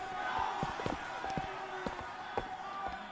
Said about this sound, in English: I can hear all the yelling. Yeah, that's an angry crowd.